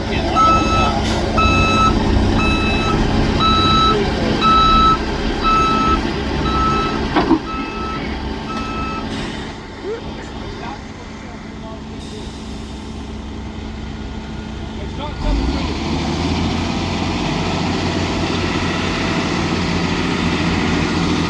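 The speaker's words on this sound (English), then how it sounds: "That clunking you heard was the truck backed into the asphalt paver." A truck reverses up to an asphalt paver during street repaving, its backup beeper pulsing steadily over a low idling diesel engine, with a dull clunk as it meets the paver.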